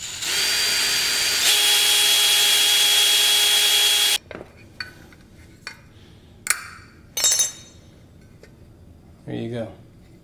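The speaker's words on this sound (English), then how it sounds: "I'm just drilling the rivet out." A loud, steady power drill whines for about four seconds drilling out a rivet on a titanium cat can stove, then stops, followed by a few short clinks and scrapes of metal nearby.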